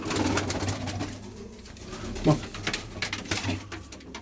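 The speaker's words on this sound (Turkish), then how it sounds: "Ayağı perdeli Irak kuşları." Feather-footed Iraqi pigeons coo softly in a loft, low rolling calls repeating beneath a man's speech nearby.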